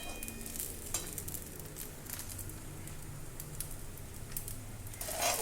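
Sabudana and peanut powder sautéing in a pan, a steady crackling sizzle with soft stirring scrapes throughout, close and continuous.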